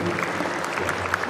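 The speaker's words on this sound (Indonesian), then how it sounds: "Tepuk tangan dulu dong dia." A short burst of dense audience applause fills a hall during an Islamic talk, many hands clapping at once at a steady level.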